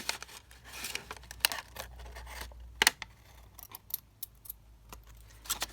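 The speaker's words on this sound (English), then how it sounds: "I just need to open this back out and just cut these flaps off" Scissors snip through paper flaps in a run of sharp, close cuts with irregular pauses, along with light paper rustling and handling noise.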